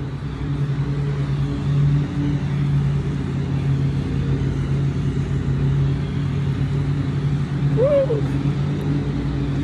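Vehicles rumble and rev near a park with a steady low engine drone throughout, heard from a middle distance, and a brief shout of excitement near the end.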